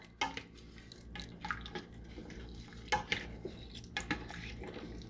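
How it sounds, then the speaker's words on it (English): Bay leaves are stirred into a simmering pot, with a spoon tapping and clinking against the metal sides in irregular, fairly quiet strokes over faint liquid sloshing. "So I'm going to put them in. We're going to stir that around."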